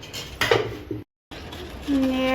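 A serving dish or utensil is pulled out in a kitchen, with brief clatters and clinks of dishes and cutlery, close and fairly loud, broken by a short gap.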